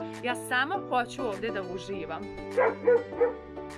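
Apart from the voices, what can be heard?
dog barking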